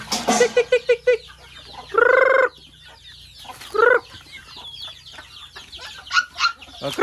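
Hens and chicks cluck and peep close by while being fed, with short clucking bursts, a couple of louder drawn-out calls and scattered chirps throughout.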